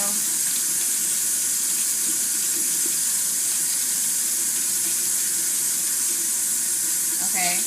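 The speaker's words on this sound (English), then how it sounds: "I haven't used any soap yet, I just did some scrubbing" A pan is scrubbed under a steady stream of tap water running into a sink, a constant broad hiss throughout with faint handling sounds mixed in.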